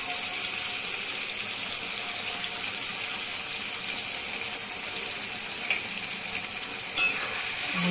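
Spice paste of cumin, coriander, ginger, salt, turmeric and Kashmiri red chilli mixed with water sizzles in a pan while being stirred, a steady bright hiss with a couple of sharp scrapes near the end.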